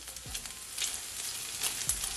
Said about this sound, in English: my bacon has make oil, as you can see, and it is frying nicely.